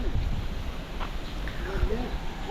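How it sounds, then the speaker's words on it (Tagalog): Steady wind buffeting a microphone outdoors, a low rumbling roar with gusty swells throughout, loud and close. "mahangin ngayon"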